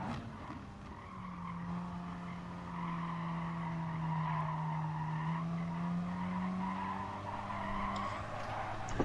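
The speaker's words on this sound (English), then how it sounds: "Look, I locked up my tires there." Tires locking up and skidding in a racing video game, a sustained squealing tone that wavers slightly in pitch over a steady engine roar, continuous and fairly even in level, with no speech.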